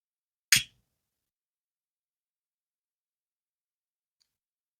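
A lighter used while finishing a knitted chunky-yarn blanket gives one sharp, close click, then silence follows.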